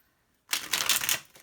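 A deck of tarot cards gets one quick riffle shuffle up close, a dense burst of papery flutter lasting under a second after silence, with no voices.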